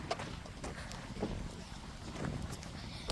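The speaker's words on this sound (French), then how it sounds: "En même temps, il y a aussi le vent." Wind blows steadily across an outdoor soccer field, buffeting the microphone with a continuous low rumble and occasional louder gusts.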